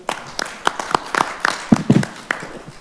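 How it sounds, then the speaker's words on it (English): A few scattered hand claps at a Wheat Ridge city council meeting, irregular and fairly close, with a brief murmur of voices partway through. "I just wanted to give you a round of applause"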